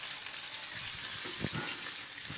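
Paneer fries in hot oil, a steady close sizzle and hiss with a couple of brief bubbling bursts midway, no voices.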